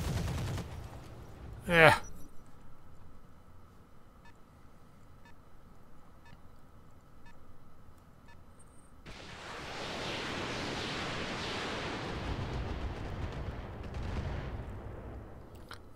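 Mech weapons fire in the video game Roguepoint: one sharp loud blast followed by a low sustained rumble, then a dense, noisy barrage of impacts that runs several seconds, with a brief voice at the start.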